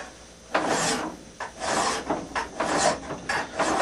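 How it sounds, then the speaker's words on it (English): A metal file rasps across the bevel of a handaxe in repeated, even push strokes, about six close, fairly loud scraping passes with brief gaps between them, and no talking. "just enough to keep the file flat against the bevel"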